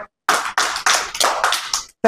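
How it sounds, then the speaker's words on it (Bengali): A class of children claps together in about six loud, close bursts in a steady rhythm, each a quick flurry of hands, with a teacher's voice briefly around them. "হাততালি সবাই।"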